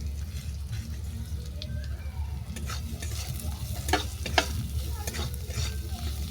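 Carrot, onion and chopped coriander fry in a pan with a soft, steady sizzle. A spatula scrapes and stirs through it, and a few sharper clinks rise near the end.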